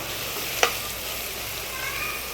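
Veg biryani masala frying and being stirred in a pan, a steady low sizzle throughout with one sharp scrape of the spoon near the start.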